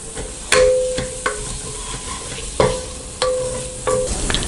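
Biryani masala and a handful of mint sauté and sizzle in a pan for mutton biryani, with repeated sharp spoon scrapes and stirs against the pan over a constant frying hiss.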